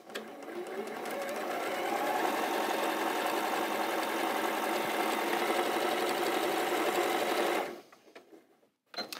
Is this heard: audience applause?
no